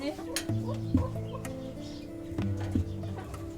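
Five hens cluck in a small garden, a series of close, low repeated clucks and short calls with soft background noise.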